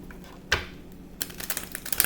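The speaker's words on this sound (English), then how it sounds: "I'm going to shuffle one more time." Tarot cards being shuffled by hand, a quick run of crisp, close riffling clicks and flutters after a single soft slap, with no talking over it.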